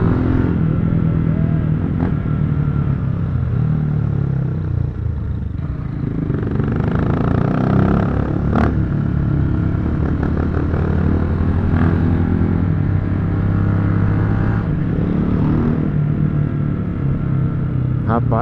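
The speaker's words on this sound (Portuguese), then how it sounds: "Vocês estão ouvindo o ronco? Que escapamento que vocês acham que é esse?" Honda XRE motorcycle with an aftermarket exhaust roaring loudly while riding through town, a continuous close rumbling drone that rises and falls with the throttle.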